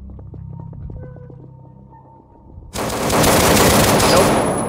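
A zombie wielding a gun in the video game Paranoia 2: Savior opens loud rapid automatic fire partway through, after a stretch of quieter humming ambience, and the dense bursts carry on to the end.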